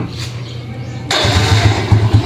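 Honda Fury 125 motorcycle cranked on its electric starter: a brief whirring crank, then the engine catches and settles into a loud, close, pulsing idle.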